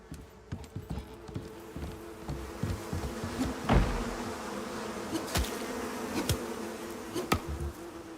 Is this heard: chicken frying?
no